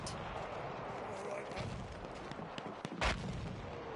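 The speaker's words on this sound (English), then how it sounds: "The enemies are being halted by our artillery barrage." Artillery barrage in the video game Battlefield 1 on PlayStation 4: a continuous dense rumble of distant shelling with one sharper, louder blast near the end.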